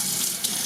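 Warm tap water runs steadily, a loud, constant hissing rush with no breaks and no voices.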